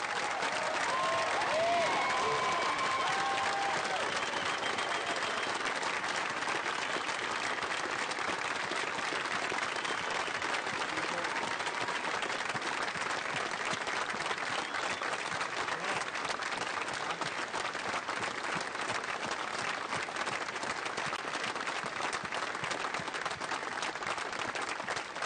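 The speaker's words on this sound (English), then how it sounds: "please join me in giving another round of applause to these 3 Americans" Indoor Pentagon ceremony audience gives sustained, dense applause lasting about 25 seconds, a steady wash of many hands clapping at an even level.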